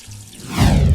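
About two liters of water pours into a cooking pot holding beef tripe and hooves, starting with a light trickle and swelling into a loud, close rush within a second.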